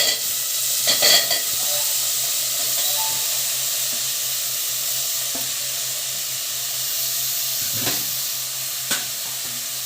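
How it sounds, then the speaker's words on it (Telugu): Curry leaves, onions and drumsticks fry in oil in a pan with a loud, constant, close sizzle, broken by a few clanks and scrapes of a spoon near the start and end. "కరివేపాకు, ఉల్లిపాయలు ములక్కాయలు మొత్తం వేసేసుకున్నాం"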